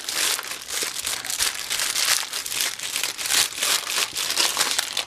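Wax paper crinkles and rustles continuously as a sweet potato loaf is wrapped in it, with close, fairly loud crackling bursts in an uneven rhythm.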